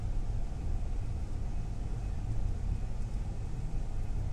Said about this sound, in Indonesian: Biar mantap lah kita merasakan suara dari bus ini.